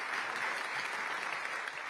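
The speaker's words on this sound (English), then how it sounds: "please give us a round of applause" An audience at an international finance leaders' investment summit applauds a panel, a steady, even round of clapping, fairly faint and distant, with no break.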